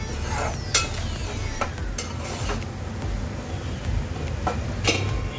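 Masala sizzling and frying in oil in a pan for Konkani-style sprouted whole masoor usal, with a steady low crackle and a few sharp scraping clicks from stirring, close and alone.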